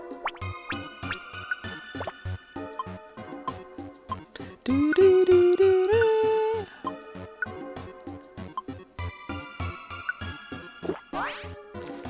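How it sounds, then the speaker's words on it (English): A Pokemon Mystery Dungeon DX item-drinking effect as a Max Ether is consumed, a rising bubbly gulping tone about a second and a half long set against rhythmic chiptune-style game music that continues before and after. "That's actually a real ingesting sound."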